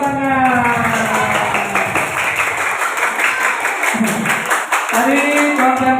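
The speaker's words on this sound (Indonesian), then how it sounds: "Dan tepuk tangan." Children in a classroom clapping their hands together in rhythmic bursts, loud and close, with a teacher's voice and tonal calls sounding over the clapping.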